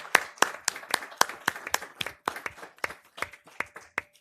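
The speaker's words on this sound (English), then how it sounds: "if you please give Steve a round of applause" Sparse applause at a township council meeting, a handful of separate hand claps in an uneven rhythm, fairly faint in a quiet room.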